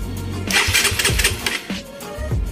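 A Suzuki Raider 150 motorcycle engine cranks and fires after a vacuum-type fuel pump install, sputtering through several uneven starting bursts at close range, with no talk.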